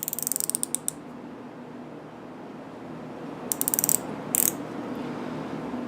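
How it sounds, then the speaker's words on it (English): Quick bursts of ratchet clicks as a micrometer is tightened in a holder, one clicking run at the start and two more short runs near the end over a quiet background hiss. "I'm going to tighten the mic up with the ratchet"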